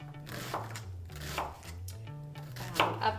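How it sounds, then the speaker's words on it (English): Knife dicing an onion on a cutting board, with a few soft, irregular chopping taps close by and a quiet low hum in the background. "we're going to turn the onion the other way, and we're just going to cut"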